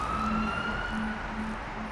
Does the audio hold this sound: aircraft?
no